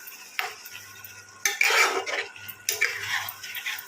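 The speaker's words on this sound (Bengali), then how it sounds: "সব শেষে আমি একটু দিয়ে দেবো ঘি, যেহেতু নিরামিষ তরকারি তো ঘি দিলে তার স্বাদ আরও যেন বেড়ে যায়। ভালো করে মিশিয়ে নেব।" A spoon scrapes and stirs through a pot of vegetarian vegetable curry as ghee is mixed in, with a few distinct metallic stirring strokes over a soft sizzle.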